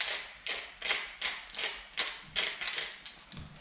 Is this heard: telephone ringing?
no